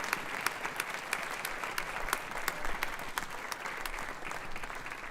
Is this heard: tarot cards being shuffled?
no